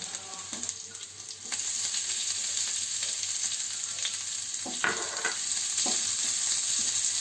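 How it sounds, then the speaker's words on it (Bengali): Chopped green chilli and ginger stir-fried in a pan, a steady close sizzle with occasional scraping stirs throughout. "লঙ্কা কুচি, আদা কুচি একটু নেড়ে ভেজে নেব"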